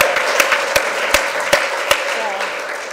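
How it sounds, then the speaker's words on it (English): An audience at an AA meeting claps for a first-time speaker, a moderate, fairly close patter of hands with a few sharper individual claps standing out, under a steady indoor murmur. "I want another round of applause for the first Elizabeth"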